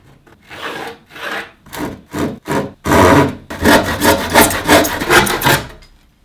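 Saw cutting through a raw, unfinished wood plank for a minimalist shelf, with repeated rhythmic strokes in bursts that become a longer, steadier run of back-and-forth rasping, close and loud, with no talking.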